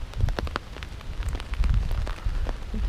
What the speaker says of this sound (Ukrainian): Зранку теж йде дощ,